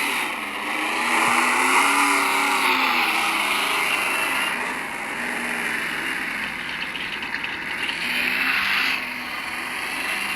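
An abandoned pickup truck engine runs steadily while driving, a continuous loud drone with slight rises in pitch, no voices.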